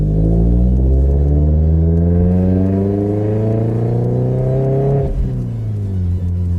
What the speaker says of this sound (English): You can tell when I hit 2900 revs.